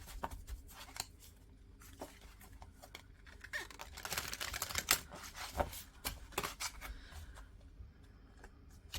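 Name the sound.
tarot cards being shuffled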